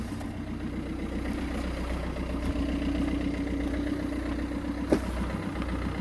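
Car engine with a tiny turbo idling steadily and slightly lumpy, a continuous low rumble close by with one brief sharp click near the end; no talk.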